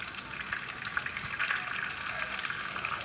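Fresh spinach frying in a very hot pot on a turned-down burner, giving a steady, close, dense sizzle that crackles evenly throughout, with no talking.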